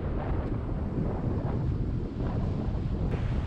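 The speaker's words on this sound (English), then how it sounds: "It's a little breezy." Breezy wind buffeting a microphone outdoors near a gorge overlook, a continuous loud low rumble with gusting swells and no speech.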